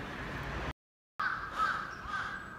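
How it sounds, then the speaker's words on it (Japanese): Crows cawing near a flower bed in Umeda, Osaka: several harsh, repeated caws ring out fairly close against city background hum, broken by a brief total dropout midway. "カラスすごいんだけど"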